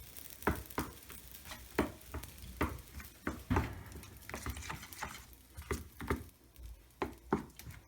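Ragi idli batter being stirred by hand after a tempering mixture is added, with a steady series of soft wet slaps and scrapes repeating about twice a second, close and fairly quiet, with no talking.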